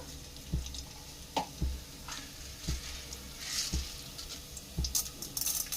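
Cumin seeds tempering in about fifty grams of hot oil in a pan for drumstick leaf fry, giving soft sizzling and scattered popping ticks, with occasional clinks of a spoon against the pan, fairly quiet.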